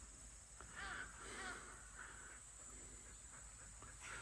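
A crow caws several times at a moderate distance, with faint steady hiss and quiet ambient background between the calls.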